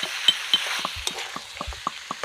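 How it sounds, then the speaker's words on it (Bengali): Medium-sized chicken pieces frying in a pan for chicken tehari give a steady sizzle, punctuated by light clinks and taps of a utensil stirring, with no talking. "এবার মাংসটা আমার ভেজে নেওয়া হয়ে গেছে ভালো করে"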